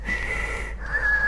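A voice imitates asthmatic wheezing breath: a short, thin, whistling tone over raspy airflow, split into two brief breaths, close and moderately loud.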